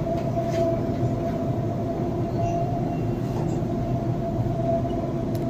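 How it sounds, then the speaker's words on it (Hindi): A driverless Dubai metro train running, its steady loud rumble and rolling wheel noise filling the carriage throughout, with no voices. "बिना ड्राइवर की मेट्रो ट्रेन चल रही है"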